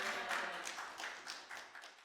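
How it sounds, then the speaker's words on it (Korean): Applause rises from a church congregation welcoming the preacher to the pulpit at a worship service: a faint, steady patter of many hands that slowly fades over about two seconds. "박수로 환영해 드리겠습니다."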